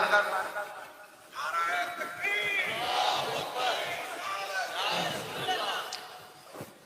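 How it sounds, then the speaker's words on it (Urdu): A crowd's voices rise together in a loud collective religious slogan at a Sunni gathering, sustained chanting with overlapping shouts that fade near the end. "یہ سمجھداری والا نعرہ ہے، حالانکہ سب نعرے سمجھداری والے ہیں"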